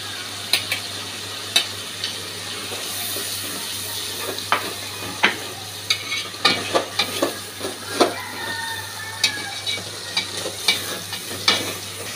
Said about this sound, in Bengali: এবার আমি সর্ষে আর কাঁচামরিচটা বাটাটাই দিয়ে দেব।